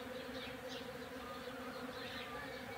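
Bees buzzing close around, a steady droning hum with passing swells as individual insects fly near, faint and continuous.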